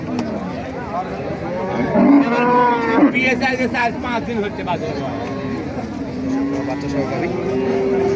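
Cattle at a busy rural cow market moo loudly and close by, with several drawn-out calls rising over a crowd murmur, and someone talks throughout.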